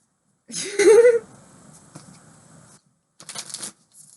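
Tarot cards being shuffled for a pick-a-card reading: a loud riffling burst near the start, a quieter rustle trailing off, then a second short shuffle later on.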